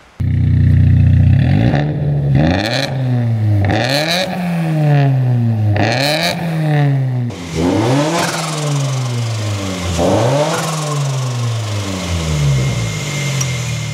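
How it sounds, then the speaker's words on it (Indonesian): A loud, close sports car engine with a custom titanium exhaust revving hard several times, pitch sweeping up and falling back between blips, ending in a raspy rumbling idle. "suaranya sih sangar ya, karena knalpotnya juga udah pakai titanium di custom, knalpotnya bagus"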